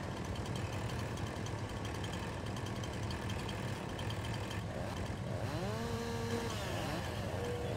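Chainsaw in the Farming Simulator 19 video game drones steadily and loudly throughout, a continuous engine buzz with a brief rising whine near the end.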